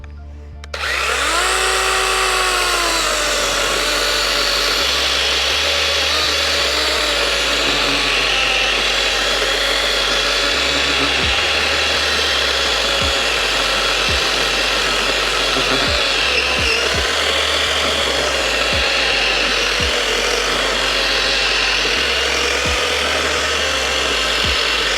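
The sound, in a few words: DeWalt DCCS620 cordless chainsaw cutting through wood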